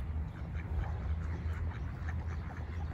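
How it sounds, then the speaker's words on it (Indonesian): Ducks quacking outdoors on a rainy day in Europe, a steady run of nasal quacks from a small group over a low rumble of wind or traffic, no talking. "tuh bebek"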